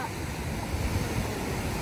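Steady rushing surf at a beach at night fills the whole stretch, a broad continuous wash of breaking waves with a windy roar and no clear voices.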